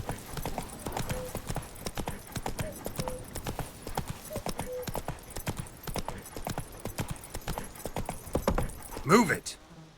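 Horse hooves clip-clop at a steady trotting rhythm in The Witcher 3, close and clear, with a short voice and whinny-like sound near the end.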